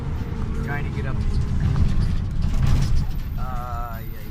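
A vehicle engine strains and grinds as it climbs a rough uphill road, a steady low labouring drone with metallic creaks and rattles, while a person talks over it.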